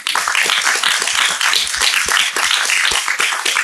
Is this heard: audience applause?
yes